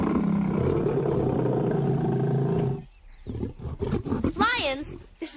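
A lion's roar, a loud rumbling growl that breaks off into a sequence of grunting calls close to the listener, with a narrator's voice overlapping near the end.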